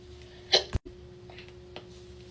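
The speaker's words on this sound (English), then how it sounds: "they're painful hiccups" A woman hiccups while doing her makeup, giving one sharp, close hiccup and then a couple of fainter ones, with no talking.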